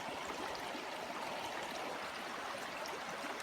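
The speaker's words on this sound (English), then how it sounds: "Sound of running water, birds chirping," A stream runs steadily with a constant broadband rush of water, faint and even throughout, no voices.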